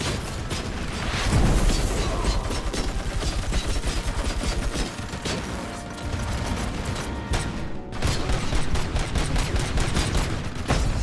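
Gunfire from RoboCop: Rogue City, with machine guns rattling in dense, continuous bursts and heavy impacts, loud and close, sustained across the whole stretch with only a brief lull.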